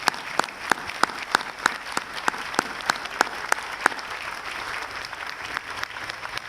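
Audience applause at a Memorial Day ceremony: a steady wash of clapping from a crowd, with a few louder, sharper claps standing out near the front, continuing evenly for several seconds.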